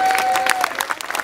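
Rally spectators at a podium ceremony for the Rallye des Vins de Mâcon applaud a driver, a crowd clapping in a loud burst that gradually breaks into scattered claps, with a voice briefly over the start.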